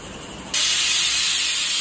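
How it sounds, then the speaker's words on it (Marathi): A pressure cooker holding chicken biryani suddenly lets out a loud, sharp jet of hissing steam that keeps going steadily after a quieter start. "इथे कुकरला आता मी 3 शिट्ट्या घेते."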